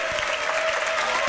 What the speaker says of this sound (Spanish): Un aplauso para la alcaldesa de Providencia